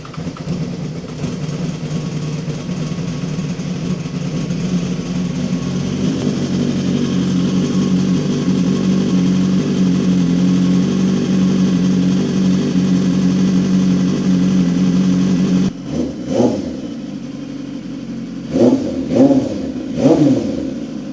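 A Ducati Monster 1200 motorcycle with an SC Project exhaust after a cold start, idling with a deep, steady burble that swells slightly, then falls away before a few sharp, throaty revs near the end.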